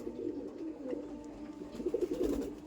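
Pet pigeons coo softly in low, throaty murmurs that keep going and swell slightly near the end, heard alone at a quiet level.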